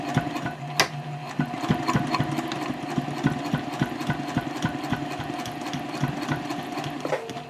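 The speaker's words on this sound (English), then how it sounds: "So now I'm going to sew that seam." Sewing machine stitching the main body seam of a backpack with padded interfacing, a steady fast mechanical whirr with rapid needle ticks running close and continuous.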